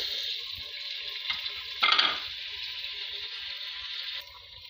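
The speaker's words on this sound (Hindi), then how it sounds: "मसाले को अच्छे से भुनेंगे, फिर इसमें सब्जियाँ ऐड करूँगी" Tomato and spice masala frying in a pan gives a steady, bright sizzle throughout. A short louder burst comes partway through as the mixture is stirred, and no one speaks.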